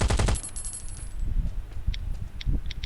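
A rapid burst of automatic gunfire rings out in the Last Day Rules Survival game, loud and close at first, followed by scattered fainter shots and small metallic clinks.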